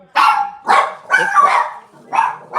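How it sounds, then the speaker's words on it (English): Several house dogs bark in a quick series of about five loud, close barks with short gaps between them, and no voices over them. "Those are the dogs."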